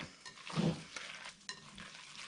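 Minced meat mixture with eggs for stuffed courgettes being stirred in a bowl: soft, wet, squelching turns with a few light scrapes, quiet and close, no talk.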